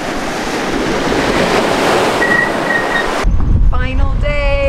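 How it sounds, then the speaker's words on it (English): Ocean water on a Maldives beach, a broad steady wash of surf and wind noise close to the microphone, cutting abruptly to a quieter scene with faint tonal sounds. "Listen to the water."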